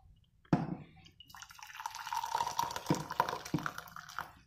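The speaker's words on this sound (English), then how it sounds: "if I start day one, I will pour coffee" Coffee poured into a cup at home early in the morning, a soft liquid trickle rising after a clunk, quiet and close with a few small knocks.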